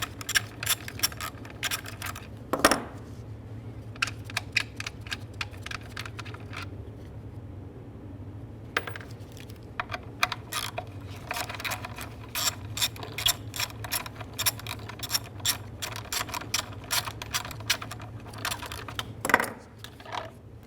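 Ratchet clicking in quick bursts while backing out two 10mm bolts on the intake manifold of a 2012-2018 Nissan Altima 2.5L four-cylinder, with several separate runs of close, crisp ratcheting, occasional metallic knocks and brief pauses between.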